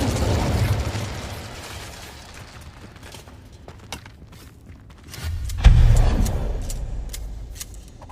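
A fire spell cast in the Hogwarts Legacy video game, heard as a sudden loud whooshing burst around the middle, with a swelling low roar that fades slowly amid other game effects and faint clicks.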